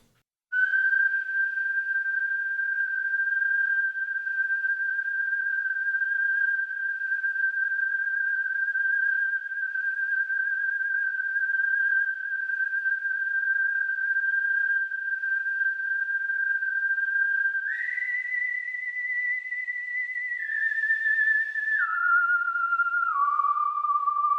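A sustained, steady whistled tone from an ensemble of five whistlers with a slight wavering vibrato, held for a long stretch, then stepping down through a few lower pitches near the end.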